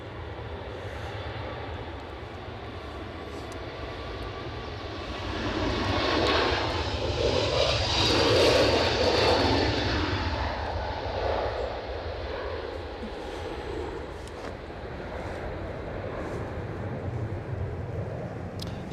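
A JetBlue jet departs Edinburgh Airport bound for Boston, its engine roar rising and swelling near the middle before easing into a steady, distant rumble, heard alone outdoors.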